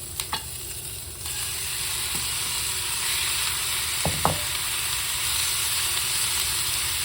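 Beef chunks sear in a hot pan for curry, a constant close sizzle with a few scraping clinks of a utensil, no talking.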